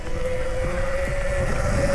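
A dirt bike with an auto-wheelie setup climbing a mountain trail, its engine droning as a steady, close, sustained tone under constant wind buffeting on the microphone.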